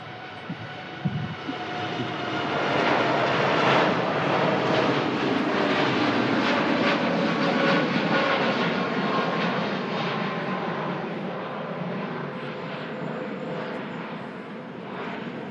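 A TUI Boeing 787 Dreamliner takes off, its engines building into a loud, sustained roar that stays strong and near before easing slightly toward the end, with no voices heard.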